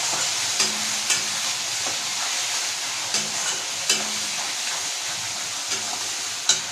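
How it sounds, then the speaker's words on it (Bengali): Spice masala for egg korma sizzles steadily in a frying pan while a spoon stirs it, with sharp scraping strokes standing out every second or so above the constant close frying hiss. "দিয়ে এটাকে আমি অনবরত নাড়তে থাকবো।"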